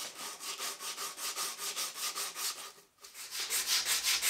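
Wooden guitar part being sanded by hand, with fast regular rasping strokes up close, a short pause near the end, then the strokes resume just as briskly. No one speaks.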